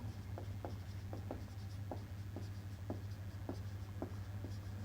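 A pen writing out a physics equation on paper during a lesson, producing faint, quick scratchy strokes in an irregular rhythm over a steady low hum, with no talking.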